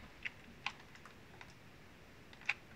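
Several sparse computer keyboard key presses click sharply and close, spaced irregularly over a few seconds in a quiet room.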